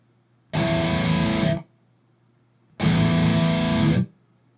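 A distorted electric guitar played through a Peavey Invective amp with its built-in noise gate: two heavy, sustained chords of equal loudness, each cut off cleanly into near silence.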